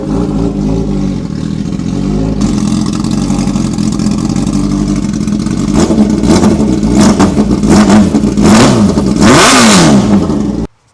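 Kawasaki ZX-10R drag bike with a loud exhaust, revved hard in repeated rising and falling bursts that build toward the end, close and dominant with no talk.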